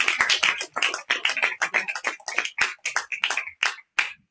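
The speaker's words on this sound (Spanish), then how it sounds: "Un aplauso a mi vieja." Audience applause at a university talk on addiction, a burst of close, uneven handclaps that rises in dense waves and then thins into a few scattered final claps.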